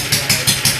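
A small 2 hp Briggs & Stratton engine running close by with a rapid, regular pulsing chug, about four beats in under a second, steady rather than climbing.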